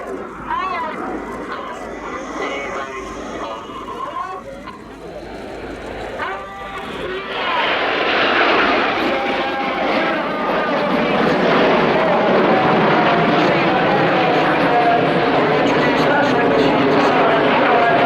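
Spitfire flying a display roll at the Royal International Air Tattoo 2017, its engine noise rising to a loud, sustained roar that fills the second half, with a commentator talking over it throughout.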